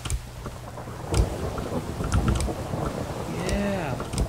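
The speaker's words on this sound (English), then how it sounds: "Running through the rain." Steady Minecraft rain hiss with occasional low thunder rumbles, plus a few brief clanks and a swooping tone near the end.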